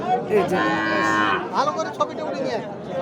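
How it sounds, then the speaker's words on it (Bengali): A young milk-fed calf moos once at a cattle market, loud and close, followed by faint background chatter and scattered voices. "দুধ খাওয়া বাছুর"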